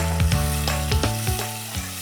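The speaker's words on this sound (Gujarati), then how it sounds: "હવે એમાં આપણે કાચી કેરીનો જે પલ્પ છે એ નાખી દઉં છું." Raw mango pulp, made from boiled and peeled totapuri mangoes, hits a hot pan of sautéed ingredients for mango rasam, giving a loud, close sizzle with a few quick scraping strokes and no voices.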